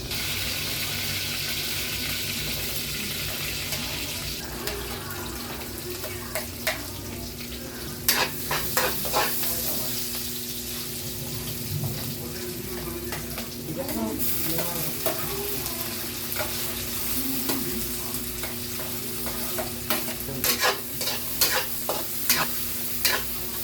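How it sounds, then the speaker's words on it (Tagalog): Pork with eggplant being sautéed in used cooking oil, with steady frying sizzle and intermittent utensil scrapes and clinks from stirring, close and continuous throughout. "Start na tayo sa pagluluto. Used oil lang ginamit natin pang gisa."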